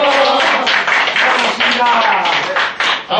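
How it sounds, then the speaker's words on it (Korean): A hiking club crowd applauds loudly for its newly elected president, with dense, continuous clapping filling the space. "박수 한번 칩시다"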